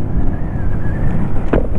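A QJ Motor SRV125 125cc motorcycle being ridden, its engine a loud, smooth hum mixed with heavy wind buffeting, with a short gust or bump near the end.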